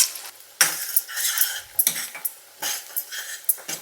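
Thinly sliced medium onions hit hot oil in a pan for a dhaba-style paneer methi chaman, giving bright sizzling bursts and scraping clatter of a utensil against the pan, with short pauses between stirs.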